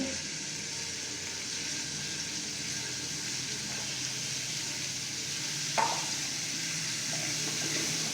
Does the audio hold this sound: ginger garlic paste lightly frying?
yes